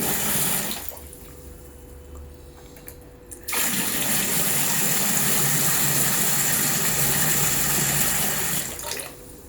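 Water gushing steadily into a tub that holds a rat caught in a trap, a loud continuous rush after a quieter opening stretch, with no voices.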